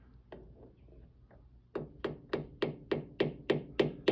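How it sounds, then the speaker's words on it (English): A small hammer taps a trumpet mouthpiece held in a lathe chuck, giving about ten crisp, evenly spaced light taps that grow slightly louder, close by in a quiet workshop. "I'm going to give it a tiny little tap with a hammer."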